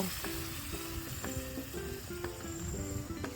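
Bhetki fish head and bones sizzle steadily in oil in a pan, a continuous broadband fry with scattered utensil scrapes and light clinks over the bed of spattering.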